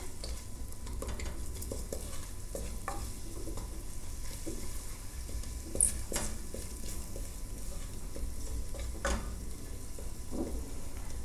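Food stirred steadily as it fries in hot oil for a cauliflower and curry rice dish, a continuous soft sizzle broken by scraping utensil strokes and a few sharper knocks against the pan.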